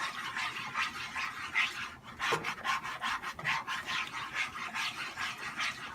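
A spatula scrapes and stirs beaten egg in a pan, with steady close rasping strokes in an uneven rhythm and no voices.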